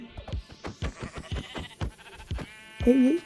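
Sheep bleating in the Minecraft survival video game, several short wavering bleats from one animal; the last bleat is loudest. Clicks and game action sounds run under it.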